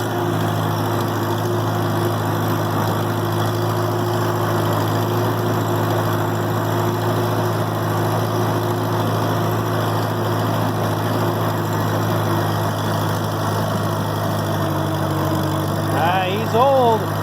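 An old snow-plow tractor's engine runs steadily in gear, a loud, continuous low drone with a constant pitch for the whole stretch, and a brief squeaky whine rising near the end.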